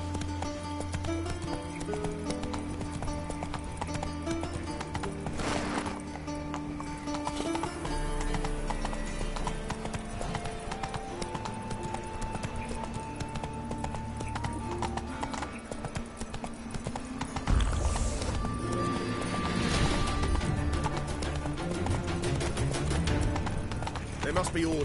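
Horse hooves clip-clop steadily in a PS4 video game, a horse occasionally whinnying, with game music and character voices talking over the hoofbeats throughout.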